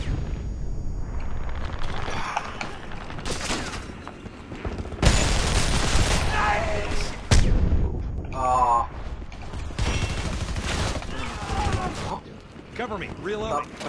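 Gunfire and explosions in a Homefront team deathmatch match come in loud, dense bursts and heavy booms, with players talking over the chaotic battle noise throughout.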